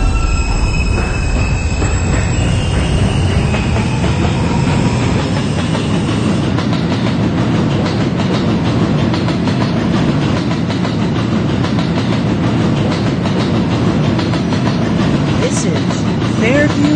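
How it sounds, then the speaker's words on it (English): An R160B New York subway car on a Coney Island-bound B train rolls with a steady loud roar, wheels squealing high and continuous over the rumble throughout the ride. "This is a Cantlin-bound B train."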